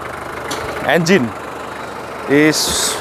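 The engine of a 1996 Daihatsu Taft GT F73 4x4 idles steadily at a low, even rumble while someone talks over it.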